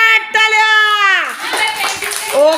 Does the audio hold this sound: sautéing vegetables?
no